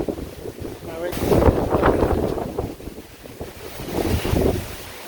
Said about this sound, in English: At least it's a good wind gust is going around.